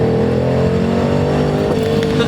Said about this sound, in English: when you put it in the higher RPM range, you start to hear the blower start to work